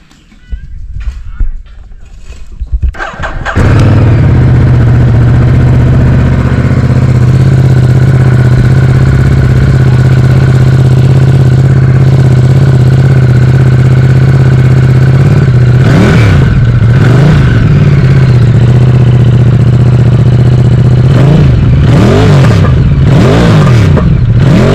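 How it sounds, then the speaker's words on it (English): A Ducati Multistrada 950 motorcycle starts and settles into a loud, steady close-range idle, then its exhaust note rises in two sharp revs before dropping back to idle. "let's start off for the exhaust note."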